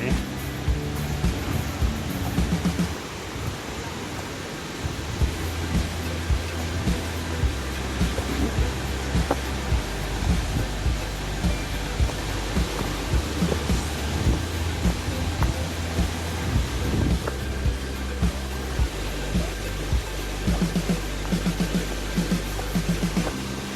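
Rushing water at Khlong Lan waterfall in Thailand makes a continuous, loud broadband roar, with low buffeting gusts like wind on the microphone running under it for the whole stretch.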